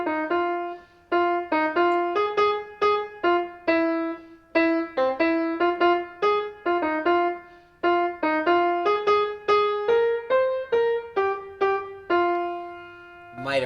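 Hymn tune of Keep Your Lamps Trimmed and Burning played as a clear, sustained melody with steady phrases and brief pauses, no voices over it.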